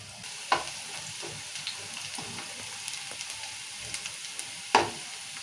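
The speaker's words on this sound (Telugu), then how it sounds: "ఉల్లిగడ్డలు మంచిగా వేగాలి ఉల్లిగడ్డలు వేగిన దగ్గర రెండు నిమిషాలు వేగాలి" Onions fry in a pan for chicken biryani, a steady soft sizzle close by with a few louder stirring clatters.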